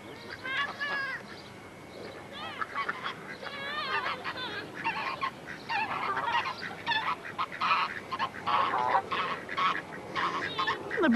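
Geese honking by the water as they follow a person, repeated close calls over outdoor background noise, with children's voices occasionally heard.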